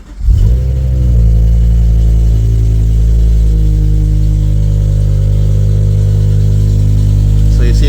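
An Aston Martin straight-six engine has just started and now idles with a steady, loud, even drone. The pitch holds level throughout, with no revving.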